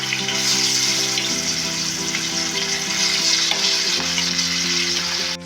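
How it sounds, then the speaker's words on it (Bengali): Pieces of catla fish fry in hot oil in a pan for doi catla, with a loud, steady, close sizzle that runs without a break and a faint hum beneath, and no voices. "এখন আমি মাছগুলো ভেজে নেব"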